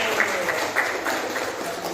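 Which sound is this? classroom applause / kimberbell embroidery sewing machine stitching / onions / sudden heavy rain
classroom applause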